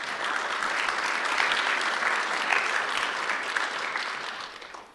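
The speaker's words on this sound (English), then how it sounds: "So a round of applause for them as well" Audience at an enterprise architecture business school event gives a steady, dense round of clapping for the audiovisual staff, holding evenly before tapering off at the end, with no talk over it.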